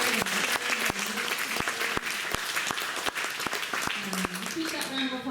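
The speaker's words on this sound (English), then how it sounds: "Maybe a round of applause for Cardinis and for all the folks who" Sustained audience applause at a Japanese American Citizens League Day of Remembrance gathering in Fresno, California: dense, steady clapping from a crowd with a few sharp individual claps standing out and voices mixed in underneath.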